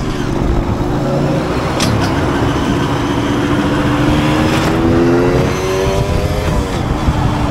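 Yamaha DT 125 R motorcycle running with its fairings stripped off, the engine droning and revving up steadily in rising pitch, loud and close throughout, with a few brief clicks over it.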